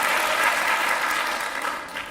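A stand-up comedy crowd claps loudly and steadily, a dense wash of applause that eases off slightly toward the end.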